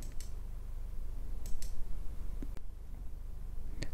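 Computer mouse clicks in the darktable photo-editing software, a handful of faint, sharp, separate clicks spread over a low steady background hiss.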